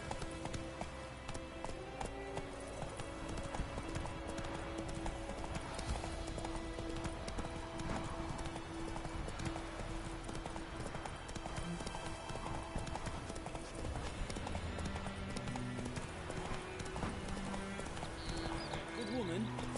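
Roach the horse gallops in the video game Witcher 3, a quick, steady clip-clop of hooves continuing throughout alongside game music, with a voice speaking briefly.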